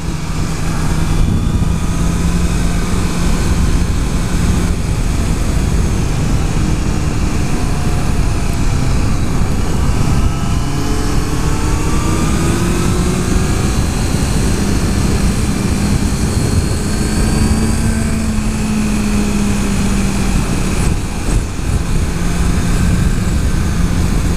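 A 2014 Honda CBR650F inline-four motorcycle engine gives a loud, steady drone with rising and falling pitch as the revs climb and drop, running continuously without a break.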